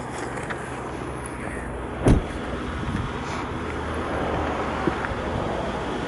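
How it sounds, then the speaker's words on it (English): Rolls-Royce Phantom engine idles with a low, smooth, steady hum under outdoor ambience, interrupted by one brief sharp knock partway through. "Beautifully smooth engine."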